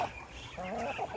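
A farmyard chicken gives a few short, soft clucks close by. The brief, quiet sounds carry no talking.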